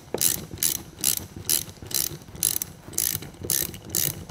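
A 7/16 socket ratchet works a part loose on a Farmall H4 tractor magneto, giving about nine quick, evenly spaced bursts of close pawl clicking, each stroke crisp and alone with no talking.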